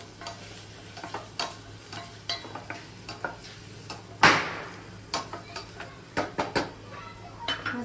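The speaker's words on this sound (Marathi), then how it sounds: "सर्व मसाले व्यवस्थित आपण परतून घेऊ।" Ghati masala and other spices are stir-fried in a pan for a pavta masala rice dish, with a spoon scraping and clinking against the pan in quick irregular strokes over a soft sizzle.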